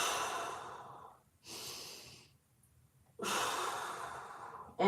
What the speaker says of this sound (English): Two more big breaths.